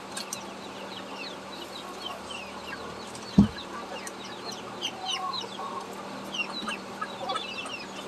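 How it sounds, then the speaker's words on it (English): Chickens and ducks being fed on a homestead cluck and chatter in a scattered run of short calls, with a single sharp knock partway through and steady low background noise. "I got more ducks around my feet."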